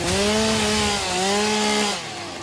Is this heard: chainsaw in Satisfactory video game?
yes